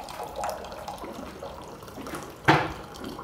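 Water is poured into a container holding a scoop of protein powder, a short trickling splash ending in a brief louder slosh near the end.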